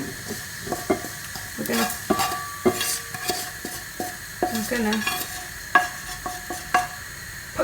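Peppercorns toast in a pan for cacio e pepe, giving irregular sharp crackles and pops over a low sizzle, with spoon-stirring scrapes, close by, and a voice briefly speaking.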